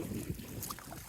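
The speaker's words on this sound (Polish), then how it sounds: "tutaj niestety mocny wiatr" Strong wind sweeps across the Oder river around a packraft drifting downstream. It comes as a brief, faint, rough rush of gusts buffeting the microphone, with no voices.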